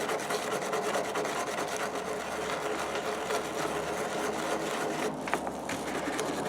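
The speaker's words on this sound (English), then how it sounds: "I'm gonna use this little brush to get all this crud off of it." A small brush scrubs crud off an old Boy Scouts knife in a steady, continuous, close-up rubbing hiss that barely changes from start to finish.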